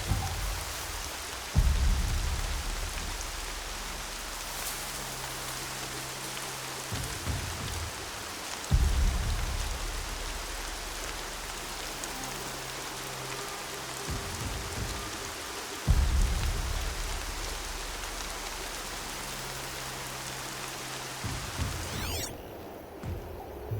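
Steady rainfall in the video game Horizon Zero Dawn, a constant hiss of drops on surfaces, broken by three deep rumbles of thunder that swell and slowly die away, with no talk.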